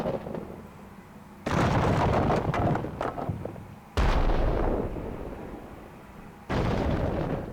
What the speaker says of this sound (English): The cannon, see?